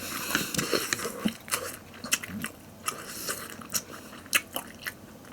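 Small crispy fried dumplings made from potato starch are bitten into close up, giving a series of sharp, crackly crunches followed by chewing, with no talking.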